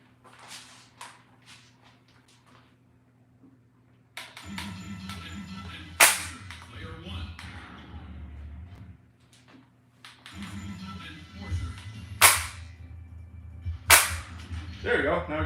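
Light gun shots in a video game ring out as sharp cap-gun-like bangs, a few loud cracks spaced seconds apart, mixed with clicky taps and game sounds from off-screen reloads.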